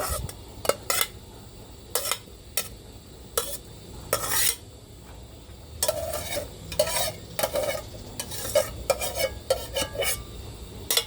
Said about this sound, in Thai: จากนั้นเขาก็จะมาใส่น้ำมันสุกลงไปเลย